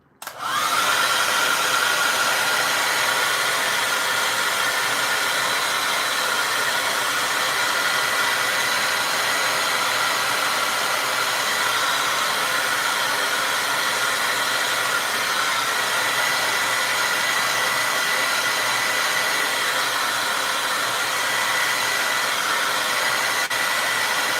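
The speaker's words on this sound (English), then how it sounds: "I'm gonna use my hair dryer and dry this first layer" A hair dryer blows steadily at close range to dry a layer of acrylic paint, a constant loud whoosh that switches on at the start and runs unbroken.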